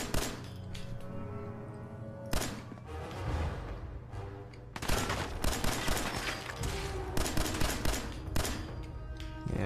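Pistol fire from Fallout 4 rings out in repeated sharp bursts, loud and close, with brief pauses between volleys and dense rapid shots toward the end.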